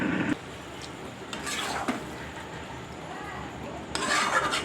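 A lid goes onto a cooking pot of wheat-flour pasta, with a short metallic clank at the start and another clatter near the end, and quiet kitchen sizzle and stirring in between.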